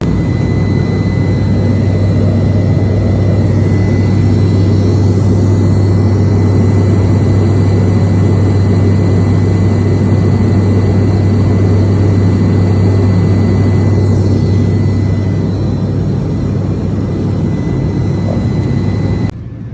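Steady, loud roar of a jet airliner in flight heard from inside the passenger cabin, with a constant low engine drone and broadband hiss running continuously throughout, no voices.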